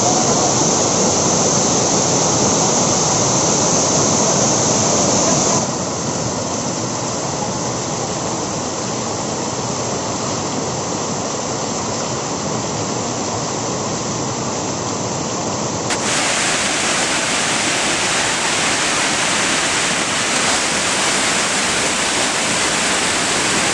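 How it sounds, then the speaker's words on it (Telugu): Tirathgarh waterfall near Jagdalpur roars as a loud, continuous broadband rush of falling water heard close, unbroken for the whole stretch with no voices. "వాటర్ఫాల్ క్లియరెస్ట్ వాటర్ ఫాల్ దగ్గర ఉన్నాం"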